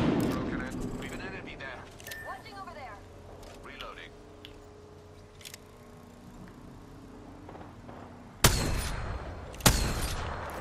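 Gunfire in the video game Apex Legends, with two loud close bursts of shots near the end after stretches of quieter game sounds and a voice talking over them.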